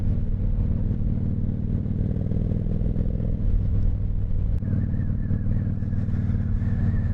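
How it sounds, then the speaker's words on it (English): A 1995 Honda VT1100 Shadow Ace motorcycle on the move, its loud, steady low engine rumble running throughout at close range. "that was the ride on the Honda VT Shadow 1100 from 1995"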